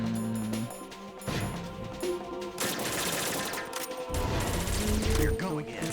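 Video game gunfire from Metal Gear Solid 2: bursts of sharp shots and crashing impacts run through the whole stretch over a steady game soundscape, loud and close.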